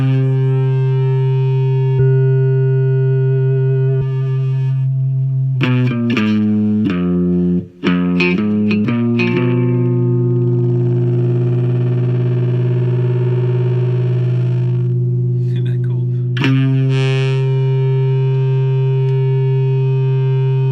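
A PCB cigar box guitar through distortion rings out a sustained, buzzing tone that breaks into stuttering choppy bursts before settling into a long squealing feedback-like drone, loud and alone.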